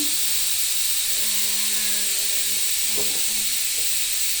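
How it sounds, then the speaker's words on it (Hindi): A pressure cooker whistle releasing steam in a loud, continuous hiss, with faint tonal hooting and a few brief knocks mixed in, up close and with no speech. "एक मिनट, सीटी बंद होने दो"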